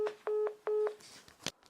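Telephone keypad dialing tones: a few short, evenly spaced beeps, moderately loud and alone, followed by faint clicks and rustle.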